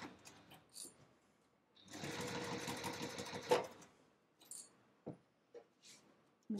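A sewing machine stitches through heavy interfacing on a Stockholm bag, a steady mechanical whirr lasting about two seconds, framed by quieter handling clicks and rustles.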